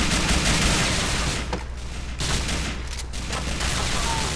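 Sustained machine gun fire from GTA IV: The Ballad of Gay Tony roars loud and continuous, with dense overlapping shots and only brief dips in intensity.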